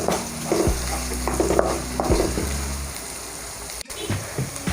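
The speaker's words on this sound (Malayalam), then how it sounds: "വറ്റൽമുളകും ഇട്ട് കൊടുക്കാം. കൂടെ ആ കീറി വെച്ചിരിക്കുന്ന പച്ചമുളകും കൂടി ഇട്ട് ഇതെല്ലാം ഈ എണ്ണയിൽ നന്നായിട്ടൊന്ന് മൂപ്പിച്ചെടുക്കാം" Dried red chillies and slit green chillies frying in hot oil for a Kerala-style beetroot stir fry, a close, steady sizzle with clinks and scrapes of a spoon against the pan.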